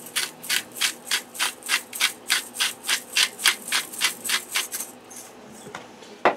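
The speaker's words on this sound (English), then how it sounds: "Let me get my salt grinder here." A handheld salt grinder cranks out about a dozen and a half rhythmic grinding rasps as salt is milled for a pressure cooker chili pork loin, close and steady, then slowing and trailing off near the end.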